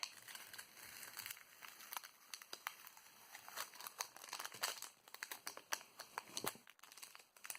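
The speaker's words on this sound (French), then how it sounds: "Je vais enlever tout le scotch." Tape peeled and crinkled off a Pokémon card duo pack, giving close, irregular crackling and tearing bursts with light plastic rustle, steady through the clip with no talk.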